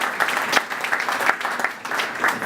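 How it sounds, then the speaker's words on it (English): A crowd at a mayoral event gives a warm round of applause for Mickey Ibarra, a dense, steady roar of clapping heard from a slight distance with no voices over it. "let's give Mickey Ibarra another big round of applause"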